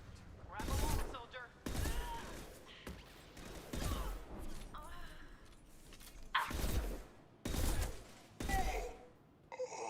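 Bursts of gunfire from the video game Mass Effect, several loud volleys spaced through the scene with voices and combat noise between them.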